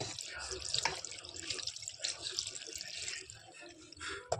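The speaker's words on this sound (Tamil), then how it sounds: "இப்போ தண்ணி எடுத்துகிட்டு இதில் கொஞ்சமாக பச்சை தண்ணி ஊற்றி இது பண்ணிக்கலாம்." Cold water poured from a tap over boiled semolina pasta in a home kitchen, a soft, steady splashing and trickling that swells and fades, fairly quiet and close.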